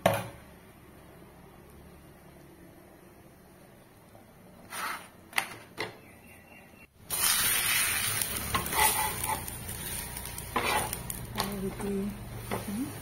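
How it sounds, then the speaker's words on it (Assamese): Oil sizzles in a pan as dal is tempered, a few clatters and stirring sounds giving way to a sudden loud, steady hissing sizzle that carries on to the end. "দালিত তেল মাৰি দিলোঁ"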